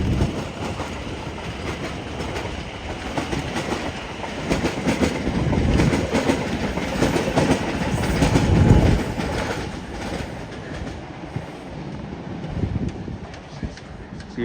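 A South Western Railway-area Class 701 electric train, unit 701011, pulls out at Clapham Junction bound for London Waterloo, its steady rumble and rhythmic wheel clatter swelling to a peak mid-pass before easing, close and loud throughout.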